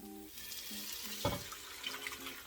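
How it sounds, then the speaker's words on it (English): Chicken broth pours into a stew pot of Puerto Rican pollo guisado, a soft continuous splashing stream, close and fairly quiet, with faint kitchen clatter around it. "Next, I'm going to add my chicken broth."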